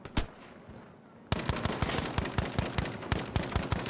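Player's gun firing in Battlefield, a brief shot then a rapid, steady burst of automatic fire, loud and close, with sharp evenly spaced cracks.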